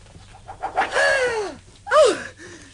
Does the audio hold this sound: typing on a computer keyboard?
no